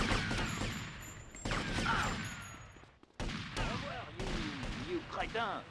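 Rapid bursts of video game gunfire ring out in a Miami mall in Grand Theft Auto Vice City, layered with shouting character voices and crashes in a busy, chaotic mix.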